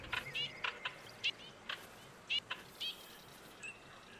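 Birds burst into flight and call in The Hunter: Call of the Wild hunting game, a series of quick separate flapping and chirping bursts, fairly faint and close together over a quiet background.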